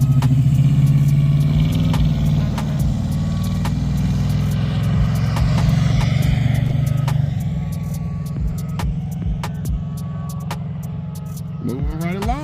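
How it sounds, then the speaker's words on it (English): A 383 stroker V8 in a 1978 Chevrolet Malibu idles with a loud, lumpy, steady low rumble that eases slightly partway through, with no talking over it. "383 stroker in the Malibu."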